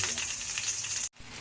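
Pork pata frying in a pan until browned, a steady bright sizzle that cuts out abruptly near the end, then resumes more quietly.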